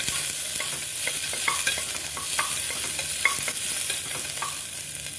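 Onion softens in a hot pan for spinach soup, giving a steady close sizzle broken by light, irregular clicks of a spoon stirring against the pan, with no voices.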